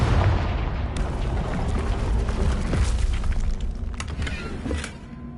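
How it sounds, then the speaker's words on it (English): Loud, sustained rumbling blast as the Confringo spell smashes a barrier in the Hogwarts Legacy video game, a dense roar with crackling debris that fades slightly near the end. "We can blast through it, I'm certain. Confringo!"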